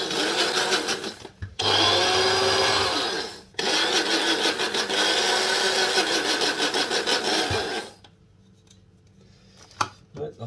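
Electric grinder grinding spices for a chicken Madras, two loud whirring bursts with a short break between them, then quiet with light handling clatter.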